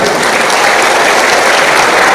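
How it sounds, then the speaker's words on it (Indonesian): Loud, dense audience applause fills the space for a gathering honoring the Indonesian republic, a continuous roar of many hands with no pauses or voices on top. "Tepuk tangan untuk NKRI."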